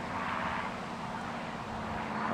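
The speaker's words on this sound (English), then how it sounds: "here he is now, pulling up Graham Pemberton in the Mark 19 Spitfire" A Mark 19 Spitfire flies over an air show crowd at the Bournemouth Air Festival, its engine a steady, fairly distant drone throughout.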